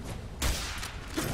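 Rapid gunshots in Fallout 4 during a firefight, a couple of sharp loud cracks over a continuous rumble of game combat noise.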